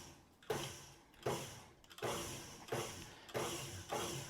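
A stand mixer pulses confectioner sugar under a tea towel, giving short repeated whirring bursts about every half second to second, each starting sharply and fading, close and fairly quiet with no talking.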